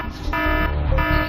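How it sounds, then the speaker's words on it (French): Overload warning alarm from the Apollo 11 lunar module computer, a steady electronic buzzing tone with layered harmonic pitches that shift partway through, sounding loud and continuous for about a second with no talking. "La première alarme était celle d'un dépassement de capacité."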